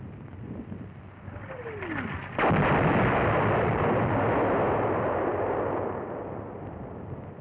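A 105 mm howitzer shell fired in US Army training is heard from the receiving end: a faint descending whistle passes overhead, then a sudden loud report booms and rumbles on for several seconds before slowly fading.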